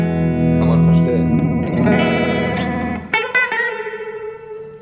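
Electric guitar runs through a Fulltone MDV3 effects pedal with Uni-Vibe-like modulation, producing sustained, swirling, warbling chords followed by a few sharper picked notes, loud and up close with no talk.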